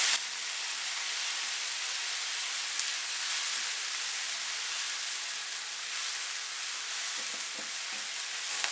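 Onion, ginger, garlic and green chili sizzle steadily in a pan, a constant crackling hiss with a few soft stirring knocks near the end.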